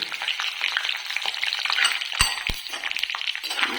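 Cloves and black pepper sizzle in a pan while being stirred, a soft crackling bed broken by a couple of sharp clinks of the utensil against the pan.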